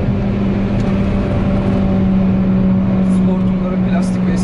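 A BMW M2 coming up from behind on the Nürburgring, a continuous loud engine and road drone with a steady low tone, heard under someone talking throughout.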